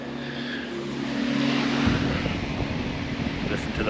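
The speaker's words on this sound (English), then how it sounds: "Pressure wash the back of the engine bay, so it's gonna be a clean machine." A pressure washer sprays the back of a Mazda engine bay outdoors. A steady low engine hum gives way to a loud, broad, continuous hiss of water blasting the metal.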